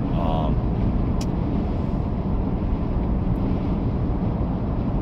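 Steady rumbling cabin noise inside a car while driving, a broad low roar with wind buffeting that holds constant and fairly loud throughout, someone talking over it.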